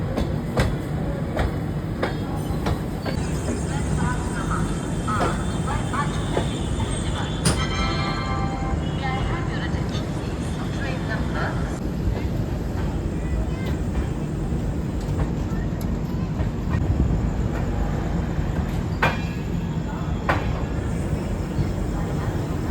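The Dibrugarh Rajdhani Express, train 12424, pulling into Kanpur Central station, heard from on board as a steady loud rumble with wheel clicks over rail joints and faint voices in the background.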